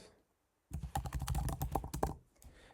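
Rapid, close typing on a computer keyboard fills in email, name and password fields on an n8n setup page, with a steady clatter of keystrokes after a short silence that trails off at the end.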